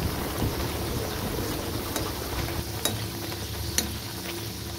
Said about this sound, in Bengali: আমি এবার কচুরিটাকে ছেড়ে দিলাম, ছেড়ে এক পাশ ভালো করে ভাজার পর আমি আরেক পাশ উল্টে দেবো